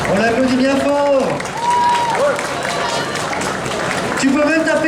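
Loud applause and crowd noise at a cosplay contest awards ceremony, largely masked by a voice speaking over it near the start and again at the end.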